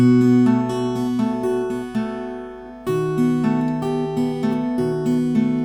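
A plucked classical guitar plays the melody of Romanza (Spanish Romance) over low bass notes, each note ringing clearly, with a short pause near the middle before continuing.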